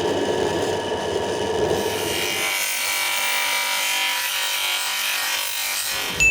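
A power tool cuts through plastic trim on a Subaru Forester, a steady close grinding rasp for about two seconds that then thins to a high whine, with a brief knock at the end.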